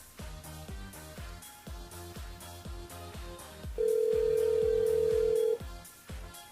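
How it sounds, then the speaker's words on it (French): Over rhythmic background music, a single steady telephone tone sounds for about two seconds while a listener calls a radio station switchboard. "Elle appelle Céline sur le standard de la radio"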